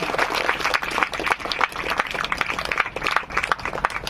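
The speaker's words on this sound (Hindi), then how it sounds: "जोरदार ताली" Wedding guests at a Christian marriage ceremony clapping loudly and energetically, a crowd of hands beating steadily throughout with some uneven bursts and no clear speech.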